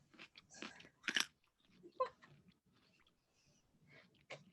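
Crunchy chewing close to the microphone, irregular bites and crunches with soft mouth clicks and pauses between them, quiet with no speech.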